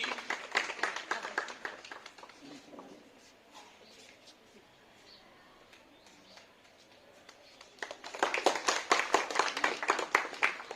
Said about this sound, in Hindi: तालियों की गड़गड़ाहट सदन में बनी रहे,